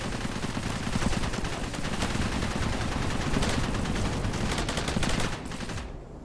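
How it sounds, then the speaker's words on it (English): Continuous gunfire and blasts roll through an airstrike in the video game Cepheus Protocol, in pandemic mode. Dense, loud and unbroken for several seconds, it cuts off abruptly at the end. "That's airstrike there."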